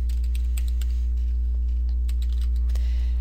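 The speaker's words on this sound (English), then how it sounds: "I'm just going to click and start typing." Keys on a computer keyboard tap in a quick, irregular run of clicks over a constant low electrical hum, close and clear, with no voices.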